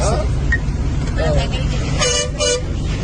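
A Telangana RTC public bus sounds several short horn toots over a low road rumble, close by, while people talk nearby.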